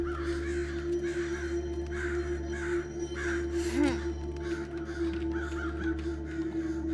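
Crows cawing inside a boarded-up building in a horror video game, a steady series of loud, harsh caws repeating over a low continuous hum.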